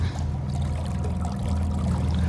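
A mini bass boat with a 35 lb electric trolling motor runs at speed 3, a low steady motor drone under water rushing and splashing along the hull as the wake builds.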